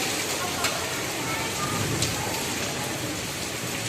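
Steady rain falls in the early evening, a dense even hiss with a few faint drop ticks throughout and no clear voices.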